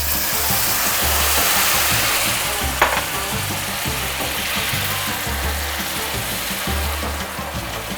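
A cup of boiling water is poured into hot butterscotch in a pan and sizzles loudly, a close, constant hissing and bubbling with a brief sharp splash near the middle and no talking.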